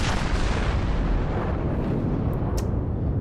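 Warship secondary guns fire repeatedly in a naval battle game, Suzumiya's batteries engaging a Kagero destroyer, forming a dense, continuous rumble of booming shots with no talk over it.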